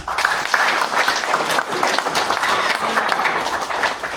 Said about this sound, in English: Give them all a big clap.